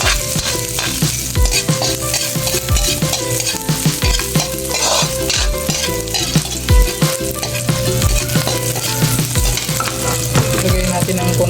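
Onion and garlic sauté in oil in a pan for chopsuey, with a steady sizzle and repeated scraping clinks of a spatula stirring, close and continuous, with no one talking.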